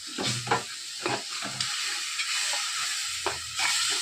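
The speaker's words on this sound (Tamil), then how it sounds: "பச்சை வாசனை போகிறது வரைக்கும் கொதிக்க விடணும்." A pot of tamarind fish curry bubbles and hisses steadily while a spoon scrapes and stirs at intervals, close by, with no voices.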